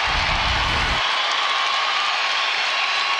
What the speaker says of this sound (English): how about this crowd letting them know it?